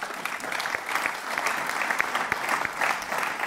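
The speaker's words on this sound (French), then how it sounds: "Et je crois qu'on peut encore bien l'applaudir." A crowd at a national party council meeting applauds its party president, a sustained, even roar of many hands clapping that fills the hall without a break, with a little talk beneath.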